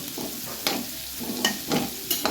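Oil going into a hot, dry pan, heard as a quiet frying hiss with several sharp scraping clicks and bursts of sizzle spread across a couple of seconds; no voices.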